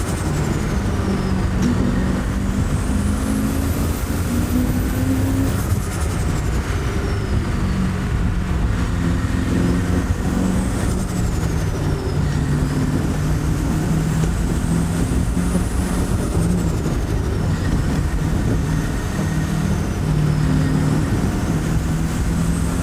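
A turbocharged TVR sports car accelerates with a loud, constant engine roar. High turbo whistles rise and fall above it several times, and it is heard close up without talk.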